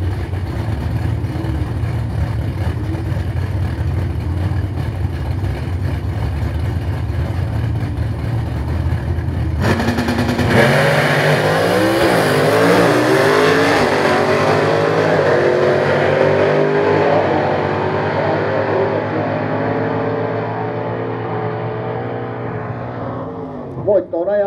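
Drag race cars at a Kauhava national championship event launch with a loud roar and accelerate hard down the strip, the engine note building and sweeping upward for several seconds before fading into the distance.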